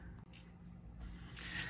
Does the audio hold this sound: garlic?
no